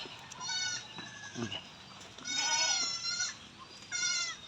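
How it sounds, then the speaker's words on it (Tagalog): Several goats bleat nearby along a muddy, watery rural path, with drawn-out wavering calls repeating in short bursts over faint outdoor background noise. "Kambing oh."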